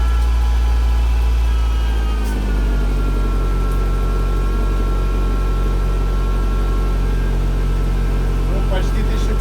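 A Mercedes W201 190E with the M102 four-cylinder engine idles steadily nearby for the whole stretch, a low continuous hum with a faint rise in pitch partway through.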